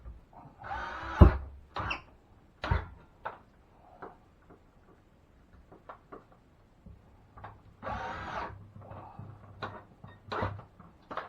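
Screws are driven into drywall sheetrock on a water-damaged wall in a tight area, heard as scattered close clicks, knocks and short bursts of a driver whirring, with pauses between.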